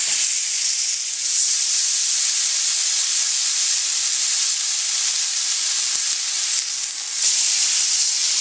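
A London broil sears in a hot frying pan, giving a loud, steady sizzling hiss close up that swells slightly near the start and again toward the end.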